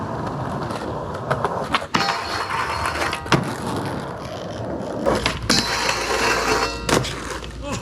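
A skateboard hits a metal rail outdoors. Rolling rumble is broken by several sharp clacks and scrapes as the board strikes and grinds the rail, all close by.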